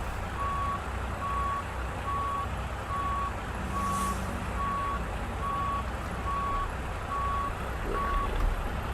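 Regular reversing beeps ring out from a truck backing a trailer toward a dealership dock in American Truck Simulator, evenly spaced tones over a low engine hum, with no talk.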